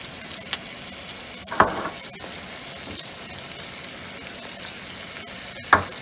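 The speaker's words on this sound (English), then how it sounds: "And you can hear the sizzle." Steak for Southern Italian steak sandwiches sizzles and fries in a pan, giving a steady crackling hiss broken by a couple of louder clatters as the meat is stirred or shifted, with no talking.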